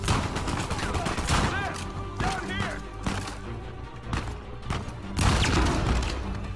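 Shotgun blasts and gunfire in Uncharted 4: A Thief's End ring out in loud bursts during a firefight, mixed with game music, impacts and effects, while a player talks over the action.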